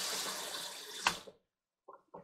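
Running water for washing rice in a kitchen, a steady broadband rush lasting about a second and a half, then cutting off, followed by two short, quieter splashes or rinses.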